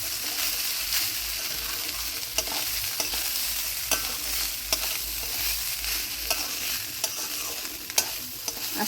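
Rice is fried and stirred slowly in a pan for pulao, giving a steady close sizzle broken by regular clicks and scrapes of the spatula against the pan, with no talking.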